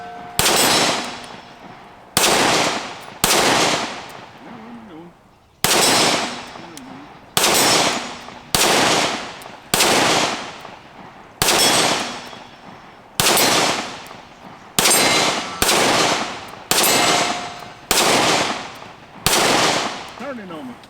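Pistol shots from Canik METE MC9 and TP9 Elite SC subcompact 9mm handguns at a range, about fifteen loud sharp reports in uneven bursts and singles, each with a brief decay.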